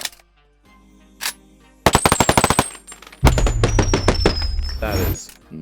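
Gunfire from an AK Gepard in the VR game Boneworks, with a rapid burst of loud, closely spaced shots followed by another sustained burst as a voice talks over the second volley.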